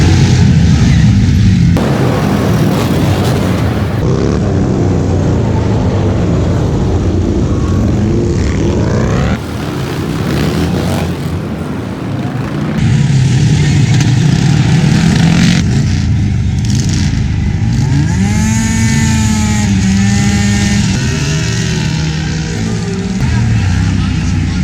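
Hooligan-class motorcycles on dirt track tires racing around a concrete track at a rally weekend, engines revving and roaring loudly and continuously, with passing machines rising and falling in pitch and talk heard over the noise.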